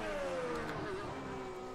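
F1 race cars from the 2017 British Grand Prix in the rFactor racing game, engines whining and shifting pitch as two cars run side by side, a continuous loud roar without commentary.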